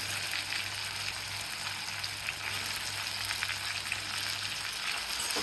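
Brinjal sautéing in oil gives a constant, dense sizzle with a low steady hum beneath, unbroken and fairly loud throughout.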